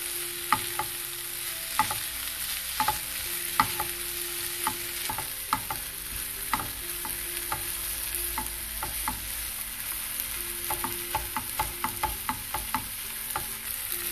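Green peas pepper masala being stirred and fried in a pan, a steady soft sizzle under repeated scraping strokes of a spoon against the pan, close and continuous.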